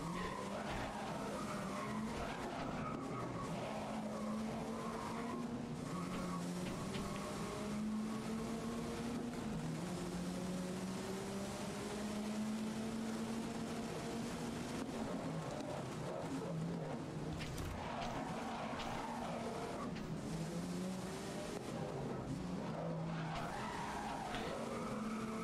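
Nissan Skyline GT-R racing in the Grid video game, its engine droning steadily and shifting pitch through corners while tyres skid and squeal throughout, a continuous loud game-audio mix with no talking.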